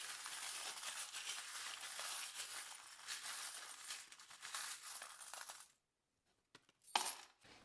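Small charms tossed for a divination reading make a close, soft metallic jingling and rattling clatter, then fall silent before one last sharp clink.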